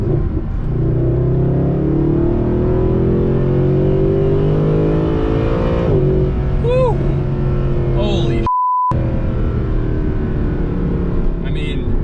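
A Mercedes-Benz SLS AMG engine revs steadily, then drops through downshifts with a brief pop and burble, loud and close throughout.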